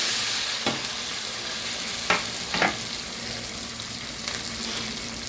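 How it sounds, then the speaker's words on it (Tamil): Onions sautéing in oil with bay leaf, cumin and cardamom for salmon biryani: a loud, steady hiss of frying fills the whole stretch, broken by a few soft scrapes of stirring, with no talk. "வெங்காயம் நல்லா வதங்கட்டும்."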